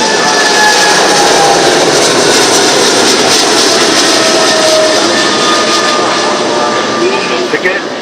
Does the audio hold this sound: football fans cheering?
no